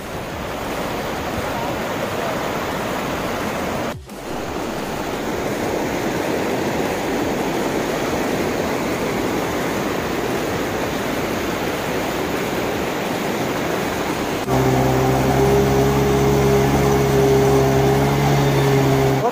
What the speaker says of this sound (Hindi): बहुत पानी गिर रहा है,